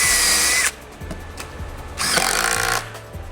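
Cordless drill driving screws into the corner of a DIY subwoofer cabinet kit, two close, loud bursts of whirring with clunks and handling sounds between them.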